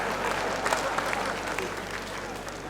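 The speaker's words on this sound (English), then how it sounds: "Give me half round of applause there." An audience applauds steadily at a Lagos State University event. The clapping stays dense and even throughout the short stretch, with faint voices underneath.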